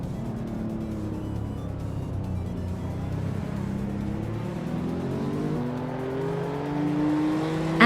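A classic 1988 Porsche 944 Turbo S launches off the line from pole position in a racing game, its engine droning low and then climbing in pitch as it revs harder and pulls away, with other cars humming underneath.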